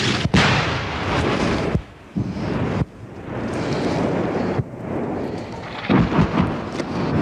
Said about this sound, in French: Je disais justement que l'artillerie française ne réagissait pas vite aujourd'hui.